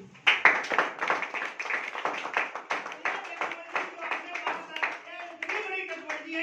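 Audience clapping at a training meeting, a dense run of sharp handclaps that starts loud and keeps going for several seconds, with a few voices and some tonal sound rising toward the end.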